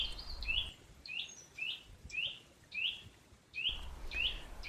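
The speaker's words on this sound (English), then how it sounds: "Everyone can try the dweep dweep sound of a nuthatch." A Eurasian nuthatch repeats a clear, rising whistled call about eight times in an even rhythm, fairly close, with a quiet background.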